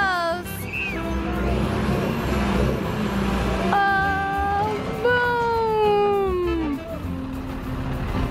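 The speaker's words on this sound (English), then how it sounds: "That's what garbage trucks do." A garbage truck's hydraulic arm lifts and tips a curbside bin into its hopper. Close, whining mechanical tones rise and glide over a steady engine rumble, ending with a falling groan.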